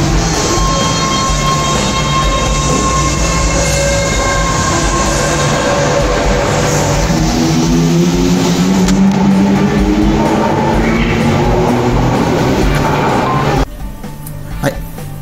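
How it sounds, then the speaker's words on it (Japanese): A Toei Oedo Line subway train rumbles and hums as it pulls away from Tochomae Station in Tokyo, its motor whine rising in pitch, loud and close before cutting to quieter station ambience. "私の乗ってた列車もね発車ですね"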